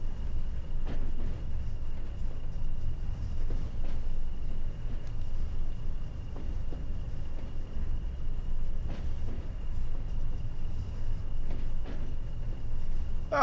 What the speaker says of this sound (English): Shunting in the yard, shunting in the yard.